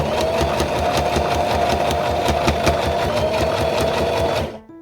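Sewing machine stitching a peasant-style gown, a fast steady rhythmic hum with rapid needle clatter running close and loud for several seconds before stopping abruptly.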